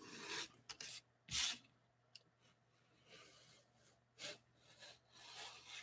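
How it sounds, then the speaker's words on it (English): A hand file sharpens something at a craft workbench in short rasping strokes, bursts of scraping coming in irregular rhythm, close but fairly quiet, with no talking. "that sharpening was effective"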